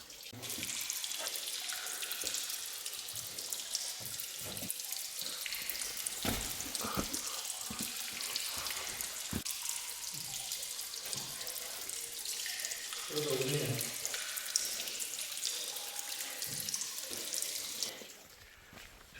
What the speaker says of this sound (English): So it's been raining for the last 20-25 minutes.